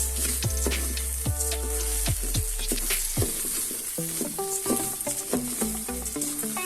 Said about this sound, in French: On va vraiment prendre la peine de bien frire le riz.